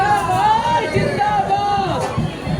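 Crowd chatter fills a busy outdoor gathering at the Bhandari compound during a ward office inauguration, with many overlapping voices forming a steady, loud babble.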